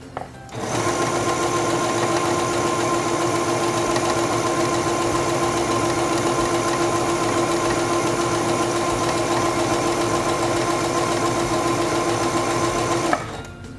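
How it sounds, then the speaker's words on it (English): A Singer 7258 computerized sewing machine sews a serpentine decorative stitch at default settings, running in one continuous, loud, steady mechanical whir with a fine rapid rattle, starting and stopping cleanly. "Let's stitch that out at the default settings."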